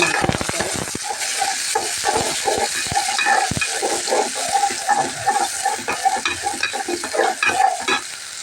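Chopped onions fry in hot oil with whole spices, a dense, busy sizzle broken by frequent close scrapes and clacks of stirring throughout, with no voices.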